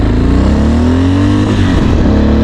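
A motorcycle in second gear at 40 kph slows under rear brake alone, its loud engine note sliding steadily downward in pitch as speed falls over a couple of seconds, close and continuous.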